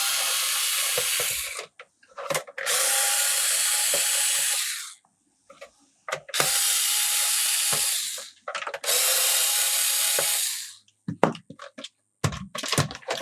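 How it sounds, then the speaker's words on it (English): A Pozidriv screwdriver driving screws while an Atari Jaguar console is opened, giving several long, loud whirring bursts of a few seconds each, split by short gaps with clicks and knocks. "So we'll get into this first, which is just posi screwdrivers."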